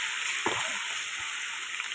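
Chopped garlic frying in hot oil, a steady bright sizzle throughout with a couple of soft stirring knocks, no one talking.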